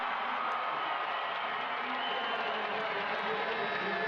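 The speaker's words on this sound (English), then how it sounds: "goosebumps hearing a crowd roar their home paddler" A large crowd roars continuously for the home paddler at the finish of a women's K1 200 canoe sprint race in Barnaul, Russia, a dense sustained cheer heard from a distance.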